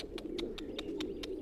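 Racing pigeons coo softly in a loft, with repeated short calls at an even rhythm over a low, steady background hum; no voices.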